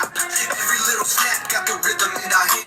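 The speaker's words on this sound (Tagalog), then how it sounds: "So ganito yung tunog ng phone natin kapag wala tayong speaker." Music playing at full volume through a phone's own built-in speaker, sounding thin and tinny with a steady beat and no talking.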